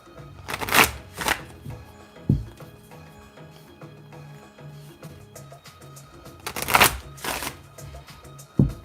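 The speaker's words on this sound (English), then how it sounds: "I'm going to vibe while I'm shuffling." Tarot cards shuffled by hand in a few brisk riffling bursts, each a crisp papery flutter, with softer handling taps and card slides between them; no talking.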